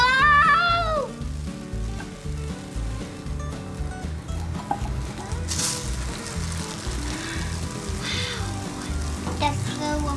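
A pancake frying in a pan gives a gentle, steady sizzle under a rhythmic background beat, with a voice briefly at the start.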